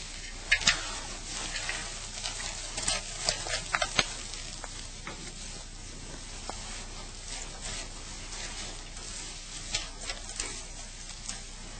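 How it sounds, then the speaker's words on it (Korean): Cake batter for an orange pound cake is folded by hand, stirring from the bottom up to keep the foam, giving soft, faint, irregular scraping and wet swishing sounds with a few light clicks of utensil on bowl. "항상 거품을 덜 죽이려고 하면 밑에서부터 위로 끌어올리면서 이렇게 저어주는 거죠"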